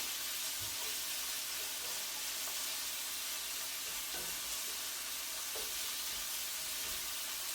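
Meat browning in a pan for Bolognese sauce gives a steady, dense sizzle, with faint scrapes and knocks from stirring now and then.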